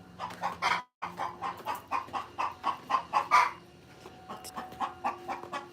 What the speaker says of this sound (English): Did you lay an egg? Is that why you're making all that noise?